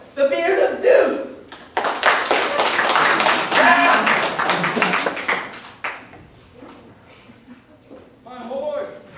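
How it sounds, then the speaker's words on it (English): A theatre audience claps in a burst of applause at a stage show, dense rapid hand claps building and fading over several seconds, with voices calling out at the start and end. "please give a round of applause for the fastest horse in the world, the Beard of Zeus!"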